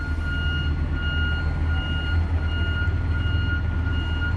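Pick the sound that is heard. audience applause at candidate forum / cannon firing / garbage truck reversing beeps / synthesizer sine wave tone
garbage truck reversing beeps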